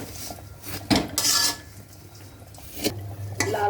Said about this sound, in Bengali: সেমাইটাকে ভালো করে গিয়ে লাল করে ভেজে